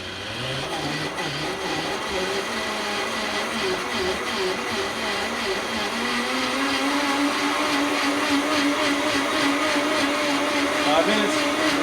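A Vitamix blender runs continuously at high speed while cooking curried carrot soup, giving a loud, steady, close whir that rises slightly in pitch over time.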